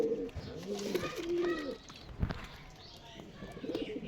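Giribaz pigeons coo at an outdoor pigeon market in Nowhata, Rajshahi, with several birds making low, rolling, overlapping calls close by. Faint chirps and market background noise sit underneath them.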